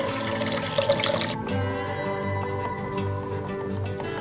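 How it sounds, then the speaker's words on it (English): Coconut water pours into a bottle with a steady, continuous liquid rush, close and fairly loud. The pitch shifts partway through as the bottle fills. "I'm gonna fill this up with coconut water"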